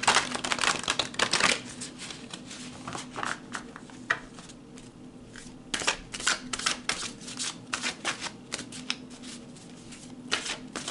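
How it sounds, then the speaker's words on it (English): Tarot-style oracle cards are shuffled and pulled from a deck, close, soft riffling and sliding bursts repeating irregularly for about eleven seconds. "So let's pull some more cards, Leo."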